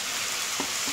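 Roughly chopped tomatoes go into a pan of lightly browned onions for Punjabi baingan bharta, giving a steady close hiss and sizzle of frying with a few soft stirring bumps.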